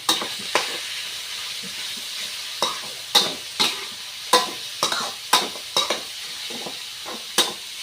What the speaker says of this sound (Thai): จากนั้นก็เอาเนื้อหมูของเราตามไปนะคะ ผัดให้สุกเลย